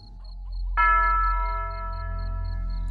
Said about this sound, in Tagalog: Eksaktong 10:00 na magsimulang tumunog ang kampana mula sa tore ng asyenda.